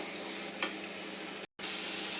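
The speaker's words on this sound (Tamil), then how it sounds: "மசாலாவும் போட்டு கிண்டி ஒரு வெந்துடணும்" Masala and broad beans cook in a pan with a steady close sizzle and a brief scrape of stirring, the sound cutting out for a moment before resuming, no talking.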